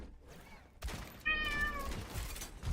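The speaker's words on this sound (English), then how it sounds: "My cat also likes Ashe's highlight intros. I'm not sure if you can hear him" A house cat meows once, a clear, fairly loud mid-pitched cry heard close by, after a brief thump and faint background noise, over quiet music from a video game.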